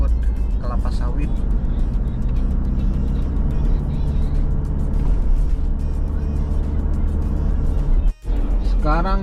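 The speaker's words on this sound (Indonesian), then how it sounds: "kita akan banyak berpapasan dengan truk-truk pengangkut kelapa sawit" Palm oil trucks pass along a road in Kalimantan, a continuous rumbling engine drone heard from a moving vehicle, with a person talking over it and a brief dropout near the end.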